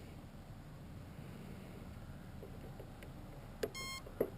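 Short electronic beeps near the end from the E-flite PT-19 450 control line model plane before a cold-weather first flight, two brief tones over steady wind noise.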